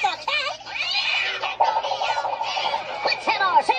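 A house cat meows repeatedly in drawn-out, wavering cries, close and prominent, with a voice briefly mixed in.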